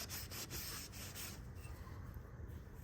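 A rag scrubs wax and grease remover across a Toyota Hilux RN46 chassis during restoration: steady, close, dry rubbing strokes that fade after about a second and a half into quieter handling.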